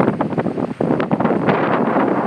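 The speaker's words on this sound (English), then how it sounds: "It's breezy" Breezy late-fall wind in the Blue Ridge Mountains near Harrisonburg, Virginia, buffeting the microphone in loud, gusty rushes with no speech.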